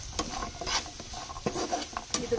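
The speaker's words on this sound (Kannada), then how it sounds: "ಇವಾಗ ಪನ್ನೀರ್ ಹಾಕಿ ಮಿಕ್ಸ್ ಮಾಡೋಣ." Paneer being stirred into a sizzling mixture in a frying pan, with several scraping, clattering strokes of a spoon against the pan over a steady soft fry, close and fairly quiet.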